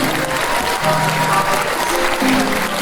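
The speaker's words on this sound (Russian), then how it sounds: "Аплодисменты, дорогие друзья!" A concert audience applauds at a Tatar-language music show, a dense, steady wash of clapping throughout with faint voices mixed in.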